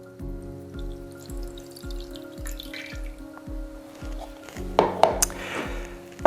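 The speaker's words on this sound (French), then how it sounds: "J'ajoute le jus de mes citrons dans la casserole." Lemon juice trickling into a small saucepan, a soft steady liquid pour with light dripping, followed by a few sharper clinks and taps close by, no talking.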